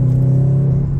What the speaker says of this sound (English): listen to the difference that this exhaust system makes on this car